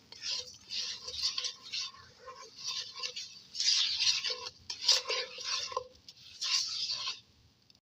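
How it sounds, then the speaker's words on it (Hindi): A spoon stirs sugar into besan halwa in a pan over a low flame, giving steady scraping and swishing strokes against the metal in repeated bursts, close and fairly loud with no talk. "अब इसमें ऐड करेंगे आधा कप शुगर और इसको मिक्स करेंगे अच्छी तरह।"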